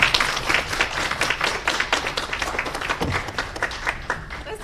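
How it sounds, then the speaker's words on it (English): An audience at a master's occupational therapy hooding ceremony gives dense, continuous applause, many hands clapping together at a steady loud level throughout. "Let's give them another round of applause."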